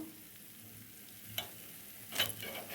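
Paniyaram of maize flour batter cooking in a covered pan over a medium flame, giving a soft, faint sizzle with a couple of light clinks of utensils.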